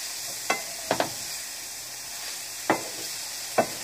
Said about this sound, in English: you're gonna cook this shrimp until it's nice and it's ready to cook, until it's fully cooked through